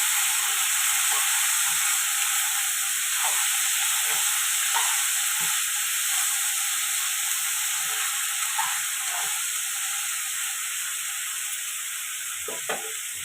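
Eggplant and green peas curry being stirred in a pan, giving a steady close sizzling hiss with soft scraping strokes of the spoon throughout.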